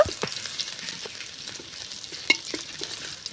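Ginger paste and fresh chili fry in half a spoon of white oil in a kadai, a light crackling sizzle with repeated quick stirring scrapes and a sharper clack near the middle, close and with no voices.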